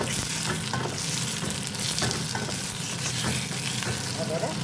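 Tomatoes and onions frying for butter chicken in a pan, a steady close sizzle with crackling and occasional stirring scrapes throughout.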